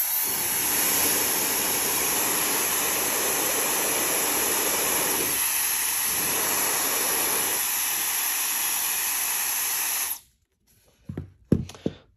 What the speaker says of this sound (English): And the Feel Jet Dry.